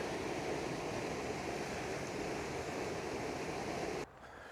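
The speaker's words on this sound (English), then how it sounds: "We're now heading up towards Skelwith Force Waterfall." Skelwith Force waterfall on the River Brathay, a loud, steady roar of rushing water that drops off abruptly near the end, with no talking.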